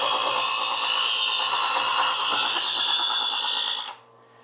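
A kitchen knife drawn through a spinning wheel sharpener, giving a steady, loud, gritty hiss for about four seconds that cuts off abruptly, with no talking.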